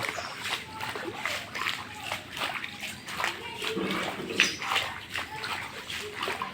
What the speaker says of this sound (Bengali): দেখুন মানুষের বাড়ির ঘরের ভিতরে পানি ঢুকে গেছে মানুষের ঘরের ভিতরে পানি পানির ছদ দেখুন কত স্পিডে যাচ্ছে পানি